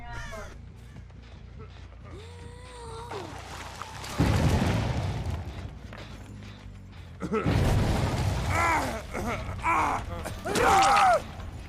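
A generator being repaired in the horror game Dead by Daylight gives off steady mechanical rattling and ratcheting with creaks. Louder bursts come near the middle and end, mixed with crow-like caws and other game sounds.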